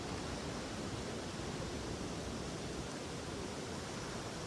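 A Nepali waterfall in the hills of Sindhupalchok or Dolakha, where water crashes down, sends out a steady, dense broadband roar that stays loud and unbroken throughout, with no voices.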